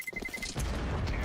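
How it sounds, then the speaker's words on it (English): A bomb exploding during an esports playoff match between GenOne and 9ine Academy: a few quick high beeps lead into a deep, sustained booming blast that fills the rest of the moment. "So the bomb will explode."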